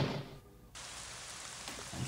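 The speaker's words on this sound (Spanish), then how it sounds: "Está lloviendo en la habitación." Steady hiss of rain pouring indoors in a room in the video game Ib, briefly dropping out then returning strongly, with a low rumble at the start and end.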